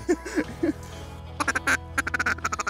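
A run of rapid duck quacks from a gray duck overhead in bursts, fairly close and loud, with a brief pause between the first few calls and a quicker volley after.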